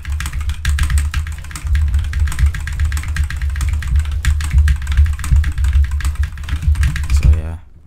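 Rapid, steady typing on a computer keyboard modded to give a deep, thocky mitr0-style sound, loud and close throughout, with the clicks running continuously until a short drop near the end.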